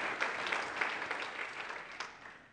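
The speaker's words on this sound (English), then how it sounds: "So how about a round of applause here for Kurt from Parallels?" Conference audience applauding a Parallels presenter, a soft, fairly distant patter of many hands clapping that slowly tapers off, with no talk.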